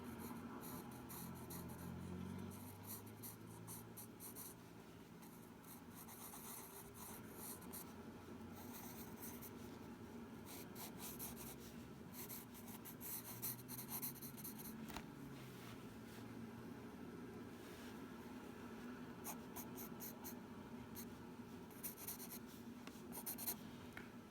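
Pencil scratching across paper while fast-sketching hands, a soft, close, continuous scribble of quick strokes and shading with brief lifts, quiet throughout.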